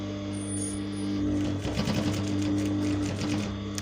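A sewing machine stitches through thick layers of exaggerated pleated flowered flounce fabric, a steady mechanical whir with a brief rattling burst of stitches near the middle, close and fairly loud with a constant hum beneath.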